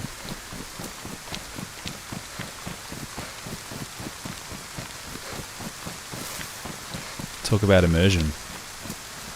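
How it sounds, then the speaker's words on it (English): Storm rain pours steadily in a DayZ-style survival game set in Livonia, a dense patter mixed with a rapid rhythmic tapping, and someone speaks briefly near the end. "It's quite a good storm, and I can hear shit rattling around in the wind outside."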